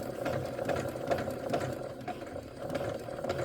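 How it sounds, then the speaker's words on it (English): A sewing machine stitches a hem on a pair of pants, its steady, rapid needle chatter running continuously and close by at a moderate level, with slight surges in pace and no talking. "I haven't used this machine to hem yet"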